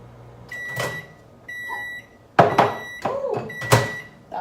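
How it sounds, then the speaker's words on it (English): Microwave oven sounds: a beeping tone, the door clicking open, and clattering as a hot bowl is pulled out and set down, several sharp knocks. "I'm gonna go ahead and pull them out of the microwave."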